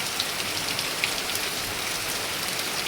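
Rain pours down onto a surface in a dense, constant hiss, with scattered sharper drop taps standing out now and then, fairly close and loud, with no talking.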